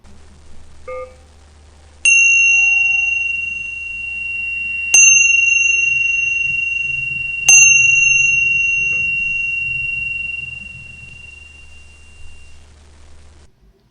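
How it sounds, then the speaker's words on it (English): A meditation bell for a Kwan Yin practice is struck three times at even intervals, each strike a bright, clear ring that lingers and slowly fades over a low steady hum, with no voices. "As I ring the bell, please allow your troubles and any impurities to fall away."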